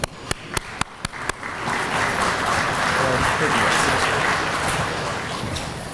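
Applause from an audience at the Cleveland International Hall of Fame awards ceremony. A few sharp claps open it, then the applause swells into sustained, fairly loud clapping that fades slightly toward the end.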